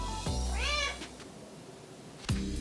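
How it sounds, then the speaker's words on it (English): A single clear cat meow, close and moderately loud, rises and then falls over a quiet room with faint knocks around it, and no talking. "Cat on set."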